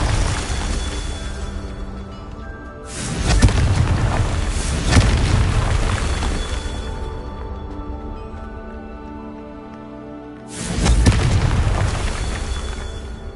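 Confringo fire spell explosions in Hogwarts Legacy, a run of loud booming blasts with two big bursts that roll into sustained rumbling and crackle, fading between hits.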